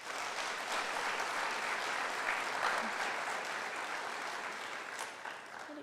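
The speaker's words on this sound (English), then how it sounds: "Please give a round of applause for the coaches, teachers, and families" Steady, dense applause from an audience in a high school auditorium at a recognition night, sustained at an even level throughout and tapering slightly toward the end.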